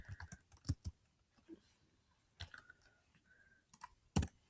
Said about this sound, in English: It's hard to type in all caps here.